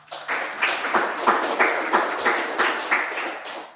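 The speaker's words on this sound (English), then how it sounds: "thanks for the applause" A crowd claps steadily in a dense, even applause at a developer event in Nairobi, with a faint rhythmic pulse throughout, no voices.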